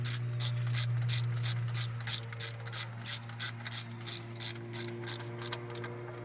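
Ratchet with a 13mm deep socket tightening the fuel rail bolts on a Jeep Patriot 2.4L, a steady run of close, crisp clicking strokes over a low steady hum.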